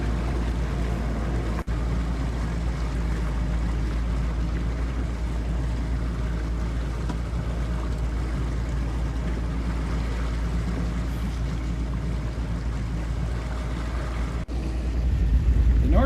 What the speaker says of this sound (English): we again passed a U.S. Geological Survey boat